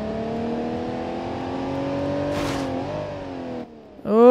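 An ETK car in the BeamNG.drive video game accelerates hard, its engine whine loud and steady as it climbs in pitch. A brief rushing burst comes midway, then the engine cuts out and roars up again at the end.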